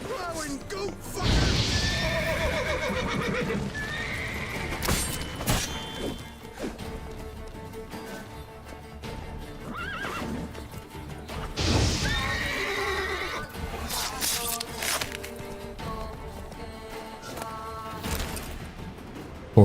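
Repeated horse whinnies and neighs ring out in The Witcher 3, mixed with hoof clip-clops, impacts and crashes, while a person talks intermittently over the game sounds.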